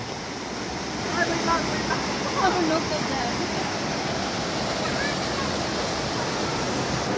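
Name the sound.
Kilangin Falls waterfall on Mount Banahaw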